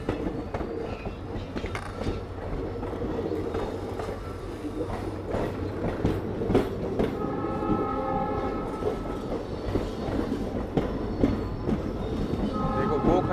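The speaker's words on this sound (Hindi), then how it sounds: "ये 2 डिब्बे की ट्रेन जो मेरठा सिटी जाती है" A two-coach train bound for Merta City passes on a rural line, its wheels rumbling and clattering over the rails with a horn sounding partway through, a loud continuous roar with faint voices in the background.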